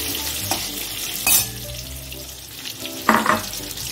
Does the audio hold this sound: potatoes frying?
yes